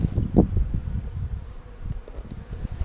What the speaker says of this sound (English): this is a lot of bees, and that's a decent amount of bees